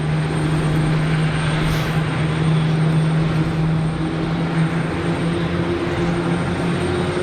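Aircraft engines starting up on a Neo airliner at Geneva Airport, heard as a steady, loud drone with a low tonal hum and broadband roar that holds throughout, with no talk over it.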